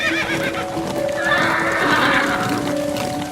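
Horses neighing loudly on a battlefield crowded with war chariots, a long whinny rising over steady clip-clopping hooves and a busy background rumble.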